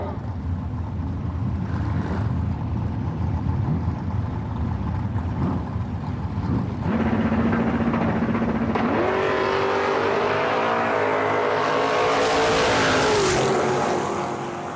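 A dragster launches down the strip at a drag race, a loud rising engine roar that builds and climbs in pitch over the final seconds, heard behind a steady background of crowd and track noise.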